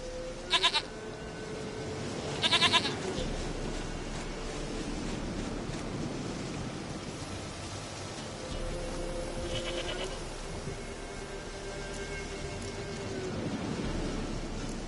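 Two or three brief goat bleats in a video game stand out against a steady rain-like ambient wash, spaced several seconds apart and moderately close.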